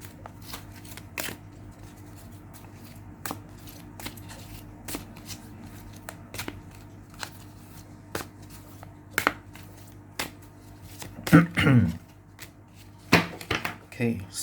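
Tarot advice cards are shuffled in a few brisk riffling bursts near the end, following a stretch of quiet scattered taps and soft handling noises over a low hum.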